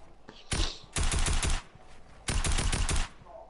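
Rapid bursts of automatic gunfire from the video game Fortnite rattle out in two main sustained volleys with a short shot before them, fairly close and sharp, with no talk over them.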